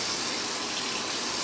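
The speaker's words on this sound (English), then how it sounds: "I got a sink going there. What I'm going to do is I'm going to fill it up with" Warm water gushes steadily from a tap into a sink, a constant loud broadband rush with no talking.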